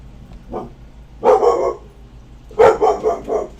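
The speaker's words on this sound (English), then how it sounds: "Sorry about my dog." A dog indoors barks in two loud close bursts of several rapid barks each, with a softer yip before them and quiet room tone between.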